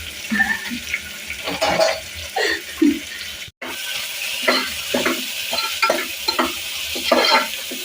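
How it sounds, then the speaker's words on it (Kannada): Chicken frying with onions in a pan, loud and close, with a continuous sizzle under rough scraping stirs and clattering strokes, broken by one brief dropout midway. "ಚೆನ್ನ ಚೆನ್ನಾಗಿ ಫ್ರೈ ಆಗಬೇಕು ಗೈಸ್"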